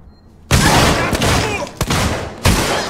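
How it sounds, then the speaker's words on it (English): A flashbang goes off in Alien Isolation with a sudden loud blast that leaves a ringing, roaring wash, followed by two more sharp, heavy impacts within a few seconds. "The flashbang was a really good idea,"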